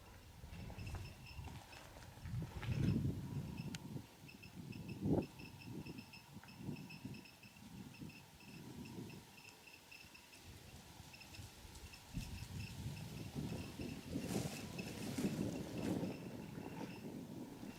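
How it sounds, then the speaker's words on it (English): Wind buffets the microphone in an open rural village area east of Chernobyl near the Pripyat river, low rumbling gusts rising and falling, with faint intermittent clicks from a Geiger counter scattered throughout. "Just the wind and the click of the Geiger counter."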